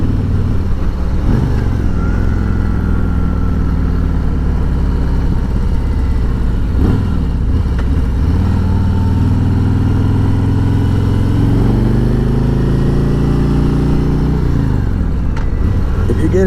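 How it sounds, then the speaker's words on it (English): A 2020 Harley-Davidson Road Glide Special cruiser pulling hard in fourth gear at about 45 mph with the throttle opened. Its loud, continuous engine roar rises in pitch under heavy wind rush, and there is no talking. "Now I'm at 4th gear, going 45. I open up the throttle, the bike just takes off."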